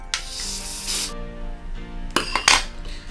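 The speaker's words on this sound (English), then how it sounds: "Go in with some Ebin spray" Two close bursts of hissing spray from an aerosol can of Ebin hair spray, the first about a second long, then a shorter pair, with faint clinks in between.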